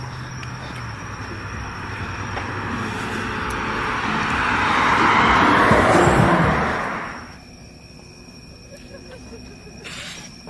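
A car passes nearby on a road near a hiking trail at dusk, its rushing tire and engine noise swelling over several seconds, peaking, then fading quickly, with faint background ambience afterward.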